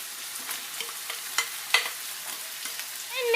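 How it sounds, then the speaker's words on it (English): Rice, meat, spring onions and carrots are stir-fried together in a pan, a steady close sizzle broken by repeated light scraping and tapping of the utensil at irregular intervals, with no voices. "Then mix up everything so that the rice, meat, spring onions and carrots are all jumbled up"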